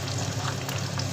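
Chopped onion dropped into hot oil in a home kitchen pan, giving a steady, close sizzle and crackle of frying that holds evenly for about a second with no voices.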